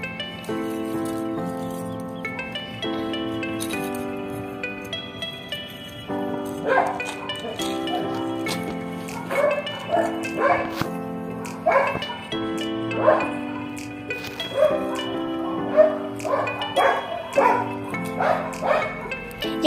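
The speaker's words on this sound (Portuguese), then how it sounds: "Chegou às 6 horas, é hora dele ficar só latindo" A dog repeatedly barking and yipping at dusk near a backyard fire pit, the barks coming in irregular bursts over steady background music.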